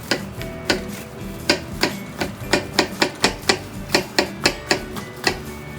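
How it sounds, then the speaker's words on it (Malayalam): Vegetables for pickling are chopped on a board with a knife, producing a close, steady run of sharp taps, about three strokes a second, with no talking. "സാധനം എടുത്ത് കട്ട് ചെയ്തിട്ടുള്ള പരിപാടിയാണ് നമ്മൾ ചെയ്യുന്നത്."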